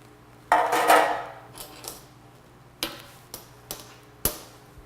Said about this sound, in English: Then I'm going to turn it upside down on my hot pad.